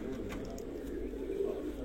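Pigeons coo softly among a flock kept in a pigeon-flying loft setup, a low steady murmur of cooing with a few faint chirps, no talk over it.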